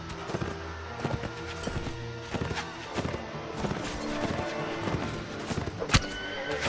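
Horse neighing in the Mount and Blade Warband video game during a battle, mixed with rhythmic hoof clip-clops, thuds and clashes, fairly close, with no talk.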